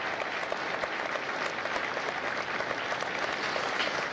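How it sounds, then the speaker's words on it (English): Audience at a Marine Corps recruit graduation at MCRD San Diego applauding Marine veterans, a sustained wash of many hands clapping, fairly distant and even, with no talk over it. "a round of applause for their dedicated service to Corps and country"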